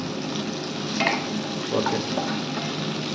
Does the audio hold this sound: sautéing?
yes